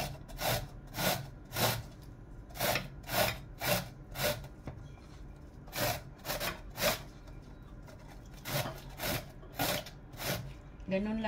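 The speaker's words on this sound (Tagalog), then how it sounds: "kakayurin natin." A kitchen grater scrapes rhythmically in short, regular rasping strokes, close and fairly loud, while broccoli with parmesan and mozzarella is being prepared.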